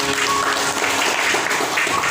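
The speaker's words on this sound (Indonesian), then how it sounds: "Kita berikan tepuk bagi Tuhan" A church congregation applauding in praise after prayer, a dense, continuous burst of many hands clapping at fairly loud level, filling the short stretch with no talk over it.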